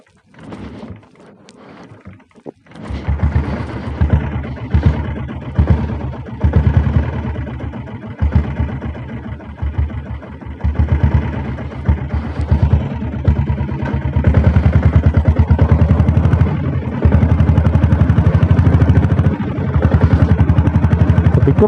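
A diesel Royal Enfield Bullet motorcycle engine starts up and runs loud and close, settling into a steady, thumping idle that grows fuller and heavier near the end.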